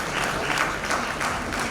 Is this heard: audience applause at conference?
yes